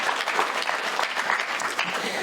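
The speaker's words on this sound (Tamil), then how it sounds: "நல்லாவே கைத்தட்டலாம், தப்பு கிடையாது" Warm, continuous clapping from an audience at a Tamil debate stage show, dense and fairly loud, with faint voices mixed underneath.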